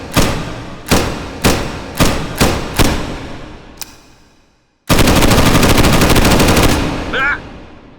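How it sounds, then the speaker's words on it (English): Bren light machine gun in H3VR: six loud single shots at a measured rhythm, each ringing out and fading. Then a sustained full-auto burst of rapid fire lasts about two seconds, followed by a mechanical clatter. "As you can see, a little hard to hold on to on full auto. And that is our Bren."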